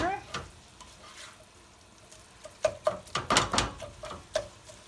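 Keema minced meat sizzling and frying in a pan while being stirred, with scattered scraping clatters of the spoon growing busier toward the end; steady close frying hiss underneath.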